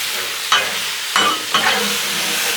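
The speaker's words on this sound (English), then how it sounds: "Pour the hibachi sauce on there and finish this thing up. Steak, shrimp, mushrooms." Steak, shrimp and mushrooms sizzle in hibachi sauce on a Blackstone griddle, a steady close hiss broken by three louder bursts of sputtering as the food is stirred and turned.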